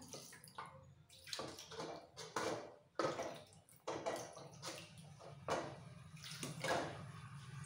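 Fresh chhana curds are rinsed under poured water, giving irregular splashing and trickling bursts at close range with short pauses between pours.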